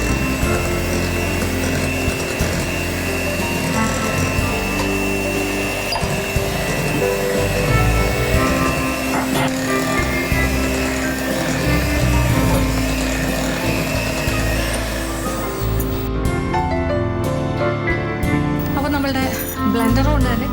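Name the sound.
hand blender beating flour into cake batter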